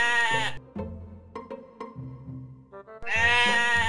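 A toy lamb bleats loudly in two harmonic bursts at the start and end, with quieter tonal sounds between, during a children's pretend-play session washing and drying toys.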